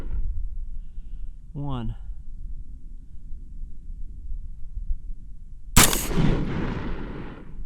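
A single sharp rifle shot from a Smith & Wesson M&P-15 Sport cracks out loud and close at an outdoor range during iron-sight zeroing, with a rolling decay. A brief spoken word comes earlier over steady background rumble.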